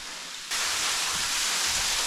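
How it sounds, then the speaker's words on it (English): A waterfall on a hike at Mohican, heard from close enough to touch, rises after half a second into a loud, steady, broadband rush of falling water that continues unbroken. "I can touch the waterfall from here."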